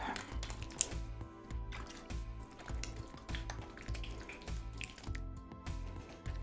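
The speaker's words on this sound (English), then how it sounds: "we are going to be using probably around 3 ml of the product on wet hands. And we're going to foam it up" Wet hands lathering about 3 ml of skin cleanser into foam, a soft squishy rubbing with faint watery squelches repeating in a steady rhythm, close up, over a quiet background of music.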